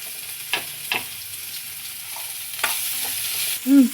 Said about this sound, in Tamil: சிக்கன் மசாலா லைட்டாக போட்டு விட்டு நல்லா வதக்கிட்டு